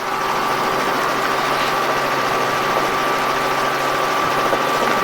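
Robinson R44 helicopter engine runs at a steady drone with a whining hum and constant vibration during a first lesson, close and unbroken with no talk.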